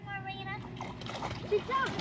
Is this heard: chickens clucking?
no